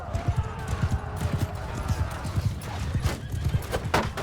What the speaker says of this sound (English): Looks like there's one horse over here.